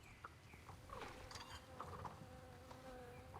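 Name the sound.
angry bee buzzing in a video game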